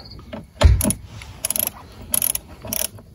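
A ratcheting torque wrench tightens 10 mm windshield bolts on a Mk4 Volkswagen Jetta, giving one heavy clunk and then three quick bursts of close, loud clicking.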